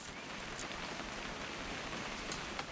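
Steady rain falling in the video game What Remains of Edith Finch, a continuous even hiss of drops on surfaces with no speech, holding at a moderate level throughout.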